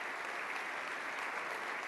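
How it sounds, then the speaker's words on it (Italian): Audience applause at an economy and development award ceremony: steady, even clapping from a crowd, heard fairly faint and alone, with no talk. "Facciamo arrivare a Barbara Beltrame il nostro applauso"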